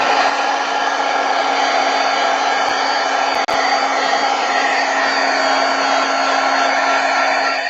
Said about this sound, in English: going to take the dryer to it and try and dry it a little bit